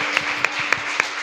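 Church congregation applauding during a worship service, a steady wash of many hands clapping with a few sharper periodic accents, moderately loud and continuous throughout.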